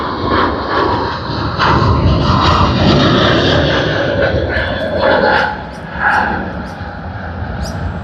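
Airliner on a Sydney to Perth service at Sydney Airport, a loud, steady engine roar sustained throughout with a brief dip near the end, heard at close range with talk mixed in over it.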